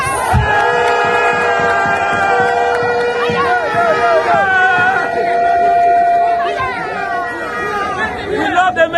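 A large crowd at an NDC political rally cheers and shouts loudly. Dense chatter and raised voices run continuously and swell toward the end, with the roar close and steady throughout.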